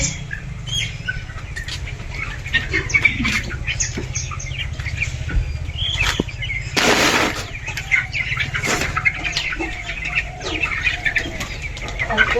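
Baby chickens scurry and flap their small wings, a close stream of soft fluttering, scratching and pattering with faint chirps and one brief burst of louder flapping, without talk.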